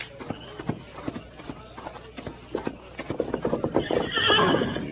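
Hooves clop in an uneven rhythm on hard ground while a horse snorts and whinnies, the sounds growing busier and closer toward the end.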